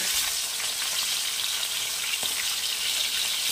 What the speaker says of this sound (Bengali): এই যে দেখুন মাছগুলো ভাজা হয়ে গেছে